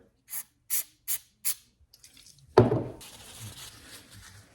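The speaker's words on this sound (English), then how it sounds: "Give it a little spray" Four short, quick hisses in an even rhythm, then a longer, louder spray that trails off into a faint hiss, sprayed onto a Husqvarna 136 chainsaw during repair.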